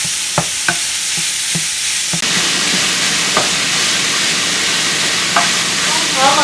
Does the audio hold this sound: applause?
no